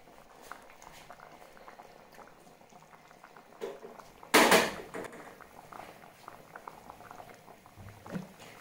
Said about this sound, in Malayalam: ഇനി നമുക്ക് മൺചട്ടി ആകുമ്പോ ഈ ചട്ടിയിൽ തന്നെ 2 മിനിറ്റ് നേരം നന്നായിട്ട് ഇളക്കി വിടാം.